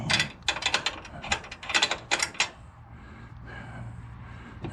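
A wrench ratcheting on a bolt under a Husqvarna zero-turn mower deck, several quick bursts of loud close clicking followed by quieter background hum.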